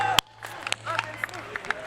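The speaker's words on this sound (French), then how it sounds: "Applaudissements, s'il vous plaît, pour Clément" An audience claps and cheers briefly for a medal winner at the Just Dance French Cup 2019, a short scattered burst of hand claps in a hall while a host speaks French over a microphone.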